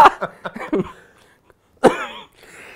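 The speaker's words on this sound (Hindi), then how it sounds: "खांसी करवा दी यार तुम लोगों ने" A few sharp, close coughs in a quick burst, a short pause, then one more hoarse cough trailing into a breathy rasp.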